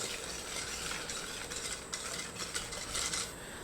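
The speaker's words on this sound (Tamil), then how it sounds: "இதை நல்லா இது மாதிரி மிக்ஸ் பண்ணணும், நல்லா கிளறி விடணும்." Egg and powdered sugar being stirred together in a bowl for rice-flour achu murukku batter, a steady close scraping and swishing that carries on without a break and with no talking.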